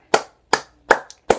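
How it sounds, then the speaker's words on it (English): Four crisp, sharp hand claps close to the mic, evenly spaced at a slow steady beat, with a tiny extra tap between the third and fourth and silence between the claps. "I have to clap it up for Mitsutoshi for that"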